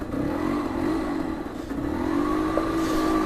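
A 125cc motorcycle rides along near a water-filled quarry, its engine droning steadily with a slight rise in pitch as it accelerates, close and continuous with no talking.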